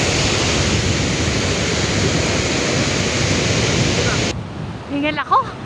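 Steady, roaring sea surf breaks continuously on a beach, close and loud, then drops away abruptly near the end as a voice speaks briefly.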